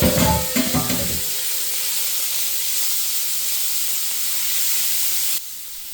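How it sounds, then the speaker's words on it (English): Food sizzles loudly in a hot pan with a steady crackling hiss, a few clinks at the start, then the sizzle drops slightly near the end. "Man, I love a good sizzle when I'm cooking my food."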